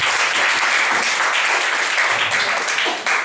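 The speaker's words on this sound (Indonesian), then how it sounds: "Tepuk tangan dulu leader masing-masing" An audience at an Indonesian training session gives sustained, steady applause for the team leaders, a thick wash of many clapping hands, loud and unbroken for the whole stretch.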